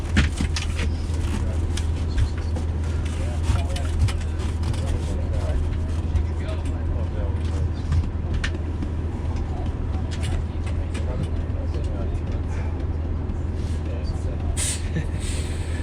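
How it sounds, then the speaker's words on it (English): Steady low engine rumble and road noise from a moving bus on the way to Breckenridge, carried on continuously with faint rattles and hiss throughout, with no talk. "the bus driver will take off"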